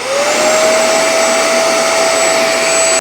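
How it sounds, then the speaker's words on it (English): A Shark EX251 carpet cleaner switches on and runs close and loud. Its motor spins up into a steady high whine with a rising tone at start-up, then drones evenly until it cuts off. "Now, you're going to turn it on, and this is the mode switch."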